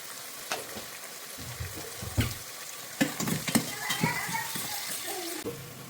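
Onion and avarekalu beans fry with salt and turmeric in a pan for bisibele bath, a soft sizzle under repeated scraping and clinking stirs of a spoon against the pan, fairly quiet and close.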